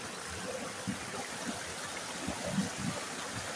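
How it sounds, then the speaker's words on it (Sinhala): A forest stream near Alakolla waterfall in Sri Lanka flows with a steady, continuous wash of water, soft and even throughout, with faint lower splashes and no voices. "වතුර සද්දත් ඇහෙනවා"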